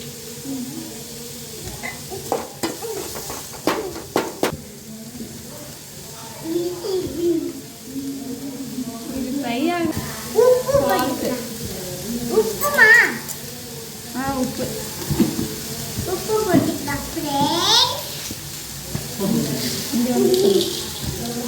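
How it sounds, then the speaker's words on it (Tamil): Onions fry in a pan for a spicy chutney, a soft steady sizzle under frequent talking, with occasional louder crackles up close. "ஆனியன் போட்டுட்டு நல்லா ஃப்ரை ஆகணும்."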